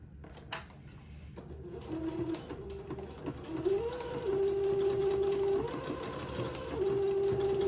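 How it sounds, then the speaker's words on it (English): A sewing machine runs in short bursts then longer steady runs, its motor whirring close by with stops and starts between stitches. "tack that elastic into place with a few forward and backward stitches of the sewing machine"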